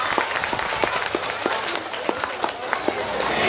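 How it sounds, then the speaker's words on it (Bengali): A college annual day and convocation audience applauding, a steady patter of many hands at moderate distance with some voices mixed in. "সবাই একটু জোরে হাততালি দেবেন।"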